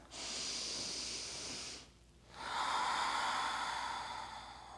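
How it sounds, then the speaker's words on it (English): Slow, deep breaths during a restorative yoga breathwork session, close and clear: one long airy breath fills nearly two seconds, a short pause follows, then a second strong breath runs to the end, with no voices. "take 3 just normal deep rounds of breath"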